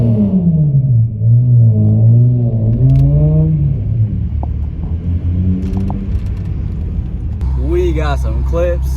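A Lexus SC300 with a custom exhaust and its resonator deleted revs loudly nearby, giving a deep, rising and falling rumble with crackle while people talk over it.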